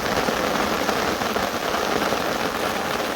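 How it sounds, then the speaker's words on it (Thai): Rain falls steadily at the Prasae reservoir during a fishing trip, a dense, even hiss of drops striking the surface close by, with no talking or other sounds. "เดี๋ยวเก็บกล้องกันฮะฝนตก"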